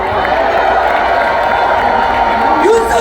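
Crowd at an outdoor political rally in Seoul on March 1st Independence Movement Day, cheering and shouting together in a loud, continuous roar that holds steady throughout, with a voice rising above it near the end.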